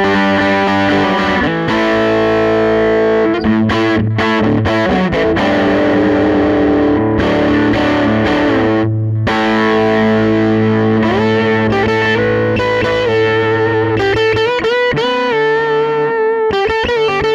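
Teye La Llama electric guitar played with tone knob at 7 and volume full, a thick distorted sound with sustained chords and single notes over several seconds, loud and alone with no talking.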